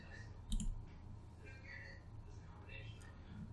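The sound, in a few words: computer mouse clicking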